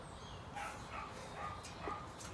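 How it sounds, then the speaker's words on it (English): Several dogs bark in short bursts somewhere in the distance, a faint cluster of about four yaps spread across a couple of seconds over a steady outdoor background hiss. "Wow, those dogs, man."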